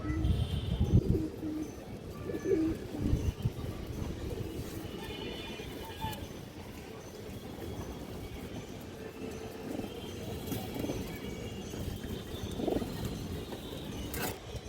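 Several pigeons coo in a low continuous burble, dense and overlapping, moderately close but quiet, with a low rumbling background.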